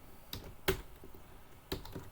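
A few key presses on a computer keyboard while a formula is typed, making quiet scattered clicks close by with gaps between them, and no voice.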